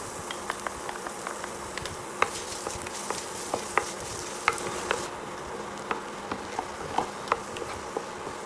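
Garlic sautés in melted unsalted butter in a pan, giving a soft, close sizzle. Small crackles and pops come at irregular intervals over a faint hiss, with no voices.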